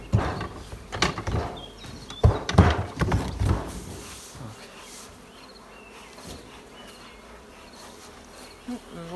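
Honey bees buzzing at an apiary as young colonies are settled into nucleus hives, a continuous drone behind louder thumps and handling noises in the first few seconds. Someone speaks at times.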